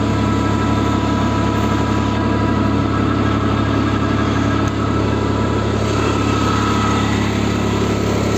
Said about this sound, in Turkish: 55 kava kuyruk milli bir jeneratör getirdik.